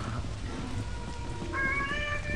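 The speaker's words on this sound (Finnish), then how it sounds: "Kissa huutaa samalla." A cat yowls and meows in a drawn-out, wavering cry over a steady rain-like background hiss, the call rising and growing louder near the end.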